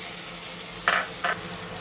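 Chopped tomatoes go into a pan of frying onions with turmeric for a kachki fish curry, giving a low, steady sizzle broken by two short, sharper hisses close by.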